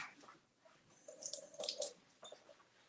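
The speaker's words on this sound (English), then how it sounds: "Let me give this a quick rinse." A quick rinse under a running kitchen tap, a soft, brief splash of water lasting about a second, faint and close.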